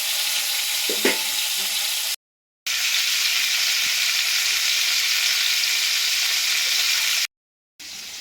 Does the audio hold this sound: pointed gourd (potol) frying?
yes